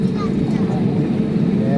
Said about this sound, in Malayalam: പ്ലെയിൻ സ്പീഡാക്കിട്ടോ